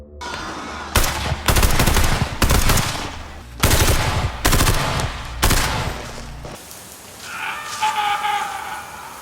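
Machine gun fire in a film battle scene, several loud bursts of rapid automatic shots separated by short pauses, followed by a quieter stretch with a faint tonal ambience.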